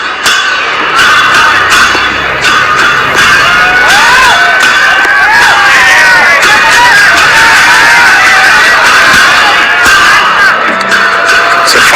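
A cricket crowd cheering for the Nepalese team, loud and sustained throughout, with whistles, shouts and whoops rising above a dense roar.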